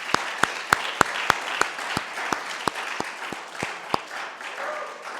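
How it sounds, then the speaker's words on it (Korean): A church congregation claps during a Christmas service, with sharp, evenly spaced individual claps over a soft bed of applause from the room, gradually loosening and fading. "우리 진짜 한번 박수 보낼까요?"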